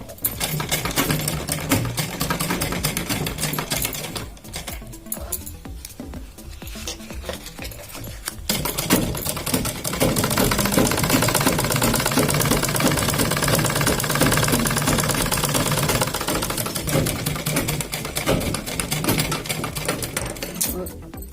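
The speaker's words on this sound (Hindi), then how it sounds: "इस तरह से हम किनारे पे, बकरम के किनारे पे सिलाई लगा लेंगे।" A sewing machine stitches along the buckram edge of a kurti in bursts of rapid mechanical clatter, briefly easing off before running steadily again.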